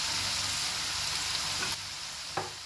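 Vegetable fried rice sizzles steadily in a pan as pepper powder is stirred in, with a constant broadband frying hiss and a couple of sharp spoon scrapes near the end.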